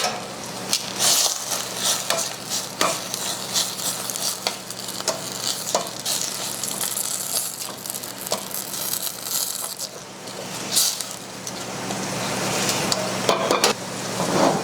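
Steady bubbling and sizzling as turnip greens go into a boiling pot, with clinks and scraping of stirring, continuous and close, no talking.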